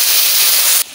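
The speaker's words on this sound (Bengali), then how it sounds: "এবার জল ঢেলে দিচ্ছি" Water poured into a hot pan with garlic for a greens dish, giving a loud, sharp sizzling hiss that holds steady and then drops off abruptly near the end.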